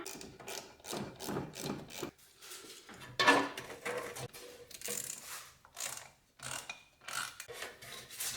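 An 8mm socket ratchet tightening a hose clamp on the intake of a Volkswagen Golf GTI MK7, heard as repeated rasping ratchet strokes in an uneven rhythm, close and fairly quiet, with short pauses between the bursts.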